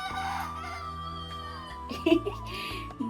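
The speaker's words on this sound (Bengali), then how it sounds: "অনেকক্ষণ ধরে না একটা মোরগ ডাকছে এখানে" A rooster crows in a village setting, a drawn-out call rising and falling amid soft household noise and faint background sounds.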